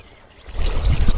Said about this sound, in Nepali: यसरी पानी पटाइन्छ